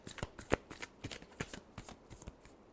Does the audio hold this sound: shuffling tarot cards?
yes